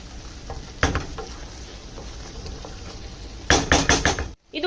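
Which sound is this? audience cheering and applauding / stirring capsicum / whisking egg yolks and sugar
stirring capsicum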